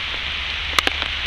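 Steady rain falls in a cold forest during a survival fire-starting attempt, a dense even hiss with a couple of sharp drip-like ticks near the middle.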